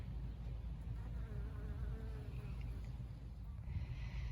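Many bees fly busily in front of their hives on a morning, a steady close buzzing drone with individual insects passing nearby.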